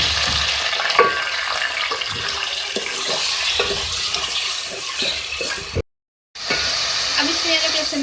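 Half a kilo of beef keema frying and being stirred in a pan, a steady close sizzle broken by repeated scraping stirs, with a brief silent gap before the hissing resumes.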